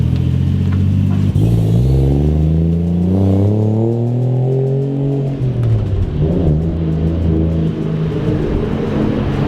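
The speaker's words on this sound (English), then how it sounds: "The Toyota 6-cylinder engine definitely is putting down an orchestra of" The turbocharged Toyota 1JZ-GTE six-cylinder engine of a Chaser JZX100 revs up loudly and steadily, its pitch climbing through the gears before easing off and rising again, close and continuous.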